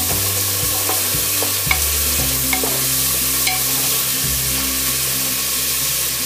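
Finely chopped cauliflower florets and cabbage are tossed in a hot pan, giving a loud, constant sizzle with light scraping and stirring clicks, no voices.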